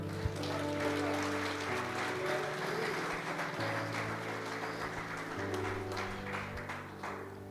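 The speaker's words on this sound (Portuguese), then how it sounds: "Você pode aplaudir o Senhor?" Sustained applause from a church congregation at an evangelical conference, a steady dense patter of many hands clapping throughout, with a faint tonal background underneath.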